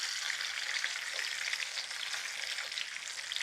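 Chicken broast pieces deep-fry in hot oil with a steady, close, crackling sizzle that stays constant throughout, and no talking.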